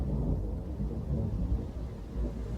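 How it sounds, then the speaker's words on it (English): Distant thunder near a beach, a low continuous rumble that swells and fades softly with no other sounds on top. "The distant rumble of thunder."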